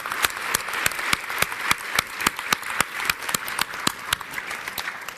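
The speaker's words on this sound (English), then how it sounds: "big round of applause to this panel that has been responding to tough questions today" An audience claps for a panel at a tax symposium, a sparse, fairly quiet run of distinct individual claps with steady rhythm, the hands of a small crowd heard clearly, fairly close.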